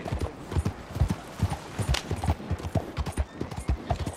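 A horse's hooves clip-clop at a steady walking rhythm in the video game Red Dead Redemption 2, the clear, evenly spaced beats close and moderately loud throughout.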